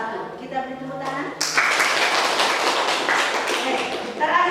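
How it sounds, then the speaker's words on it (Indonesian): Classroom applause breaks out after a student group presentation at a school, a burst of clapping and tapping that follows a teacher's voice and continues steadily for several seconds, with a voice briefly returning at the end. "Kita beri tepuk tangan."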